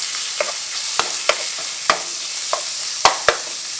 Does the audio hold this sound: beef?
yes